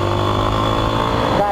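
A motorcycle engine hums steadily at close range as the bike is ridden through a curve in third gear on a slippery road with worn tires, with a slight shift in tone near the end.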